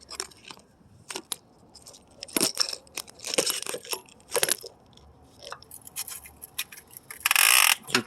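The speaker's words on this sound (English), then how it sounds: "You get the little wrench for it and you tighten it" A small wrench tightens a part on a 2005 Chrysler 300C 5.7 Hemi engine under repair for a dropped valve seat, giving irregular close metallic clicks and ratcheting scrapes, with a harsher burst of rasping near the end.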